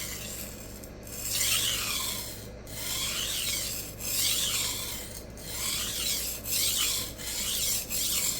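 A blade is rubbed back and forth on a Rikon 400/800 grit CBN bench stone plate, giving steady rasping strokes in a regular rhythm, close and clear with no talking.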